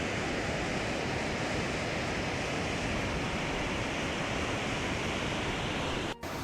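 Drake Falls, one of the smaller waterfalls at Silver Falls State Park in Oregon, gives a constant, dense rushing roar that fills the whole stretch, close and unbroken.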